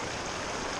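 Fast-flowing water of the New River rushes in a steady, broadband wash, close and continuous with no talk over it.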